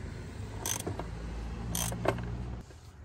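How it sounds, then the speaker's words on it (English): A 27 mm socket wrench cranks open the oil filter housing on a Maserati Ghibli, giving a few faint metallic clicks and creaks over a low background hum. "we're going to use the 27 millimeter socket and we're going to crank it open"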